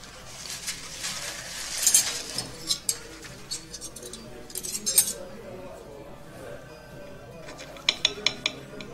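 Metal cutlery clinking and scraping against dishes during a meal at a table, scattered sharp clinks in irregular clusters with a quiet room and faint talk around them.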